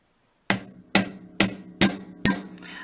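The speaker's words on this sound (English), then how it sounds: "I'm using a chasing hammer, so I'm going to strike and pull back a little bit to direct the metal." Five sharp metallic chasing-hammer strikes on wire resting on a steel bench block, evenly spaced with ringing decay, close and clear with no talking.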